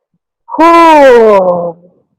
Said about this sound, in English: let it out through your mouth as deeply as you can